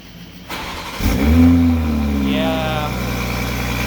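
A Toyota GR Supra with a newly installed downpipe cranks and fires up, its engine catching with a loud rising roar that then settles into a steady, rumbling idle, close to the car.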